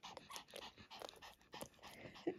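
A dog pants rapidly and close up, with quick breathy huffs in an uneven rhythm, a few soft snuffles and a brief whimper near the end, faint overall.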